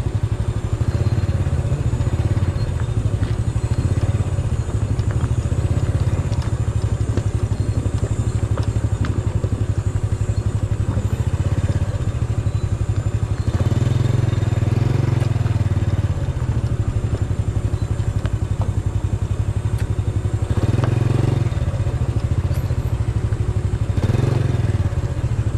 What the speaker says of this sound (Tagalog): Ito mga pauwi na itong mga motor na to